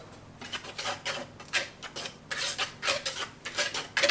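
Whisk scraping and rasping quickly against a bowl while blending ingredients, a close, fairly loud run of rhythmic strokes with no one speaking.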